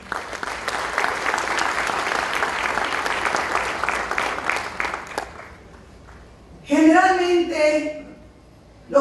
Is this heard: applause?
yes